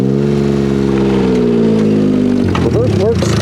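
Dune buggy engine fitted with a new transmission and rear end, idling then shifting into reverse, with a steady mid-pitched drone whose pitch changes and dips as the gear engages and the clutch grabs, close and loud.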